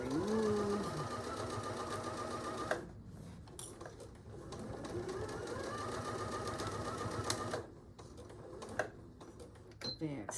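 A sewing machine stitches an artist case with box corners, running in long steady bursts of rapid mechanical chatter that stop briefly and start again, close and fairly loud.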